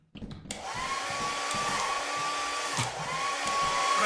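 A hair dryer blows steadily from start to finish in a Lethal Company game, opening with a short burst and then holding a constant loud whir with no talk over it.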